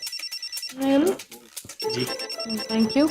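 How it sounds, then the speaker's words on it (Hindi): A telephone rings in short repeated bursts behind people talking close by. "फोन आ रहा है। फोन आ गया"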